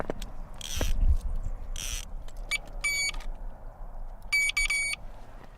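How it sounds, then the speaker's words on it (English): Outdoors by the water, an electronic bite alarm on a pike fishing rod with heavy 4mm line chirps in short clusters of rapid high beeps, after a couple of soft knocks and brief rustles. "As soon as a fish bites and pulls on the line, an alarm sounds."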